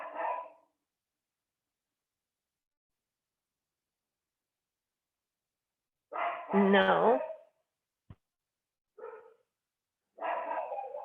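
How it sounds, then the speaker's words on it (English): Dogs barking in the house, loud bursts of barks near the start and again at six seconds, then short barks and yips spaced out with silence between. "Sorry about the dogs barking."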